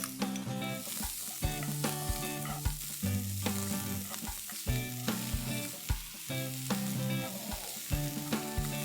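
Chopped onion fries in coconut oil in a pan, a steady close sizzle with frequent sharp crackles and periodic stirring scrapes, loud and continuous with no voices.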